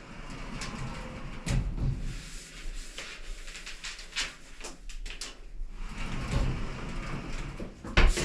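Sliding shower doors rattle, knock and scrape along their track while being cleaned, with continuous close handling noise and occasional sharper bumps, and no talking.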